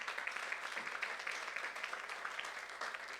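A church youth congregation claps together during a sermon, a continuous mass of hands heard from a distance, soft but sustained throughout.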